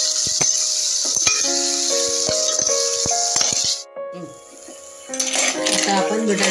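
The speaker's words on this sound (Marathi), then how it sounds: "आता यामध्ये तिसऱ्या टाकून परतवून घेऊया।" Clams stir-fried with onion and tomato in a pan give off a close rattle and clatter of shells and a spoon against metal over a soft sizzle, with a brief quieter gap before the stirring resumes.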